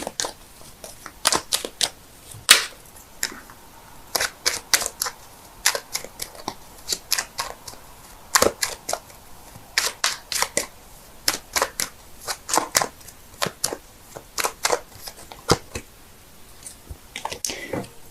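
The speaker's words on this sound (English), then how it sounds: "so give me a sec while I shuffle." Irregular bursts of crisp tarot card slapping and riffling, close by, with brief pauses between clusters of shuffles and no talking.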